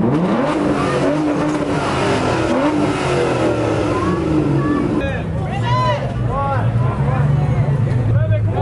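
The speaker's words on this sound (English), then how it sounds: "Cars are leaving." Exotic cars pulling away from an evening car show during Monterey Car Week on Cannery Row, engines revving and rising in pitch one after another, loud and close with crowd noise and people talking in the background.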